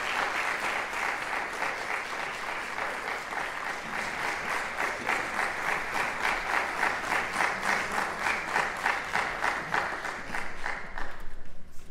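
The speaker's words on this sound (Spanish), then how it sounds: "Un aplauso para los dos." A concert audience at a Christmas chamber music recital applauds a cellist and pianist after a Beethoven sonata movement; sustained, dense clapping that grows into a slightly more rhythmic, pulsing pattern before tapering.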